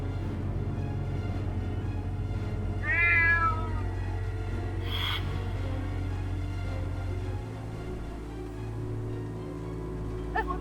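A black cat meows a few times over a steady low hum, with one clear rising meow standing out near the middle and a brief high chirp later.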